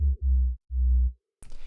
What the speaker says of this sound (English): I've got this sub drop thing, another sound I sound designed with Massive